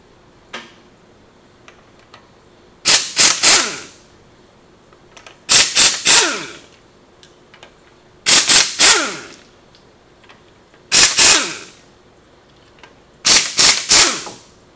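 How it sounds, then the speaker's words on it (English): Air impact wrench spinning off car wheel lug nuts during a brake job, five loud rattling bursts of about a second each, evenly spaced with quiet gaps between. "We're going to be using a air impact, so we'll get the wheel off"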